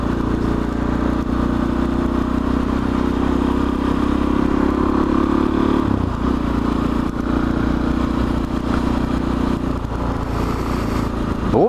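A motorcycle cruising at about 50 km/h on a ride, a steady loud engine drone with wind and road noise, the pitch dipping briefly near the middle before settling again.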